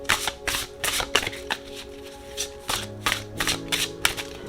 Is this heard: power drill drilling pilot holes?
no